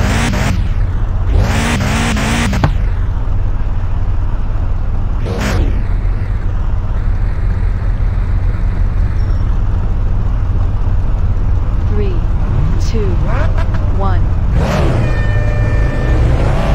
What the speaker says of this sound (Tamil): start engine